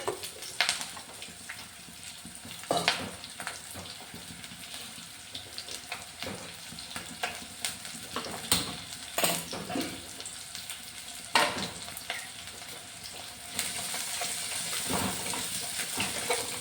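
Chopped shallots and a sprig of curry leaves fry in a pan, giving a soft continuous sizzle with scattered crackles and occasional stirring scrapes, faint and close.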